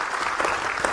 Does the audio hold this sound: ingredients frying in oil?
no